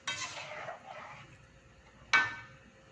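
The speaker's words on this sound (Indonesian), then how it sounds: "Kita aduk-aduk." A spoon scraping through shredded grilled tuna in spice paste in a pan for an Acehnese dry stir-fry, two rasping stirring strokes followed by a sharp metallic clank, close and without talk.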